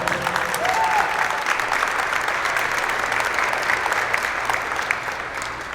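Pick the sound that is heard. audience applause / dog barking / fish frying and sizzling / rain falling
audience applause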